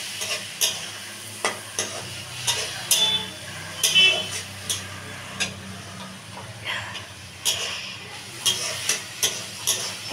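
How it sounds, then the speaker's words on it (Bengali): Dal with eggplant sizzling in a pan, a spoon scraping and stirring in repeated close clicks over a steady low frying hiss. "সামান্য জল দিয়ে একটু কষাবো আবার।"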